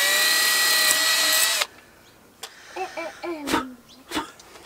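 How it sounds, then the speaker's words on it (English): A power drill whines steadily at high pitch for a second and a half, then stops; scattered vocal noises and a short throat sound follow. "So we are going to drill our hole right above that."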